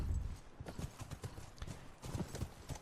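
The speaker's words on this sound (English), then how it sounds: "Go get on my horse." Horse hooves clip-clop in a steady, brisk rhythm in The Last of Us video game, fairly quiet and continuous with no one talking.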